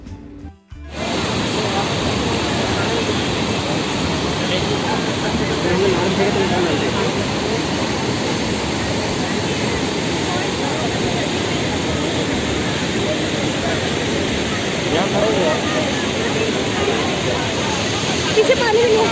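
Dhuandhar waterfall at Bhedaghat, Jabalpur, roaring as a steady, dense wash of noise that holds loud and unbroken, with faint crowd murmur beneath.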